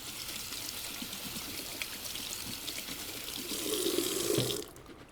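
Drained canned black beans rinsed under a running kitchen tap: a steady close stream of water splashing, growing louder and fuller near the end before cutting off abruptly.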